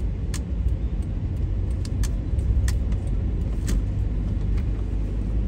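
A car creeps in to park along a street in Makassar, a steady close engine and road rumble with a few faint metallic clicks and jingles scattered through.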